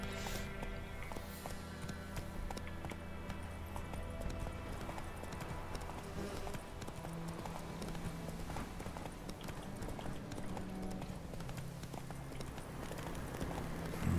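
Hooves of Roach, Geralt's horse in the video game Witcher 3: Wild Hunt, clip-clop in a steady, continuous walking rhythm throughout, layered over dense game music and ambience.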